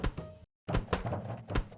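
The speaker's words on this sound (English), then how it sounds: "barrel knocking sounds," A video game barrel-knocking sound effect: a few dull wooden knocks and thunks in quick succession, with a brief silent gap partway through; close and fairly loud.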